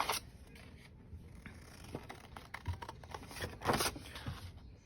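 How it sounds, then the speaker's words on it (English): Scissors snip through a sheet of paper up to a score line in a papercraft backpack project, a few quiet, close crisp cuts and rustles against a soft background hiss. "Now I'm going to, from the bottom, cut up to the score line."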